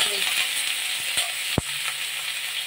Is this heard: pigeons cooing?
no